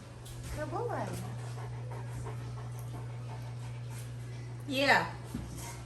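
A large dog at an emergency vet after swallowing socks pants steadily and lets out two rising whimpers, close and moderately loud over a constant background hum.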